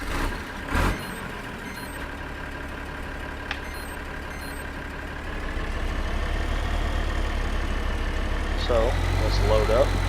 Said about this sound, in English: So, hop in our tractor.